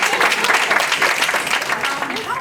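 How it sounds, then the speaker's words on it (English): Audience applause bursts out continuously for a brief moment at a live talk event, a dense steady patter of many hands clapping together. "Round of applause for her."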